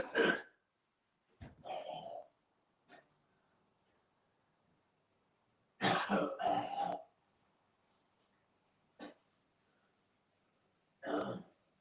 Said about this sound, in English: I had to cough then